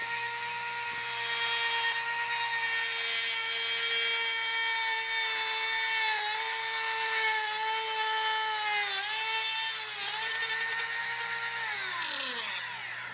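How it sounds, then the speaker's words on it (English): A Dremel rotary tool cuts on a CanAm Outlander, its loud high-pitched whine running steadily and close, dipping in pitch several times as it bites into the work before it winds down at the end. "This little Dremel tool really comes in handy for these tight spaces."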